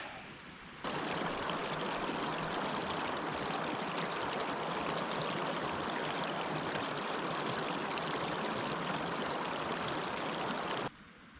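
A waterfall in the Lake District fells roars in a steady, dense rush of falling water, loud and continuous with no voices, starting and stopping abruptly at the edges.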